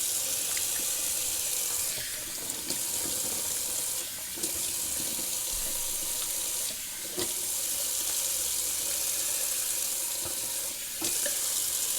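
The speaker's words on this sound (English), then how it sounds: "Let's do a little cold water rinse." Cold water runs steadily from a sink tap for a rinse during a wet shave, a continuous close splashing stream with a few brief shifts in flow and no talking.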